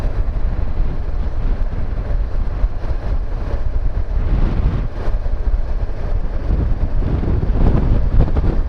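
A cool breeze blows in from the forest near the small Polissia town of Malyn, buffeting the microphone as a loud, continuous, rumbling wind roar.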